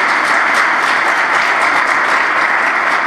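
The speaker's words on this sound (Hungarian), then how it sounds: "legalább egy tapssal köszönjük meg nekik a munkájukat." An audience at a Hernád school foundation ball gives a steady, loud, dense round of applause that lasts the whole stretch without a break.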